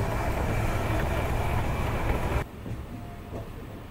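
The Shantiniketan Express crosses the Ajay river bridge near Bolpur with a loud, hollow rolling roar that cuts off abruptly to a quieter rumble as the train leaves the span, and no voices.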